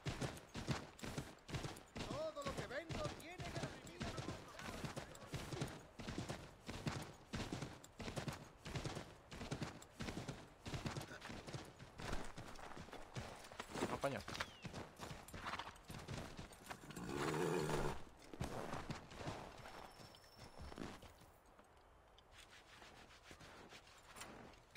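Horse hooves clip-clop in a steady trotting rhythm through most of the scene in Assassin's Creed III, loud and close, with a rubbing, rustling texture, fading out toward the end.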